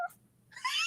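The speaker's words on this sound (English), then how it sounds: "Squeeze it. It meows." A squeezable cat toy gives out an electronic meow: a brief chirp at the start, a near-silent pause, then a brighter, louder meow-like tone to finish, with no voices.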